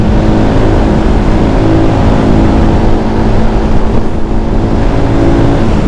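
A Rusi Flash 150X FI motorcycle engine drones loudly and steadily on a test ride, with rough broadband roar and a faint rise and fall in pitch throughout.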